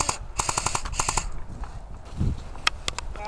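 Rapid bursts of airsoft gunfire during an outdoor skirmish game, several quick volleys of sharp cracks close by, then a pause with a low rumble and a few isolated shots.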